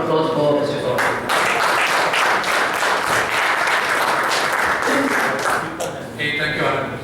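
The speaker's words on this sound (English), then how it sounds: "a round of applause for Mr. Gaurav" Audience applause for a speaker at a conference, steady clapping from a sizable crowd lasting several seconds, with a voice speaking briefly at the start and again near the end.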